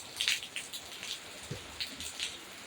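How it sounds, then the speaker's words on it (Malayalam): Faint rain falls outdoors, a soft irregular patter of scattered drops hitting surfaces at a low level, with no speech. "ഈ മഴയത്ത്"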